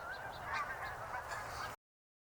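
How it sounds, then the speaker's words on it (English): A flock of geese honking in winter during a bird count, a faint, distant chorus of overlapping calls lasting under two seconds before cutting to silence. "let's see in this clip if you guys at home can figure out which goose here stands out from all the others."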